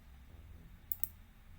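Two quick, light computer mouse clicks close together, sharp and faint against a quiet background hum.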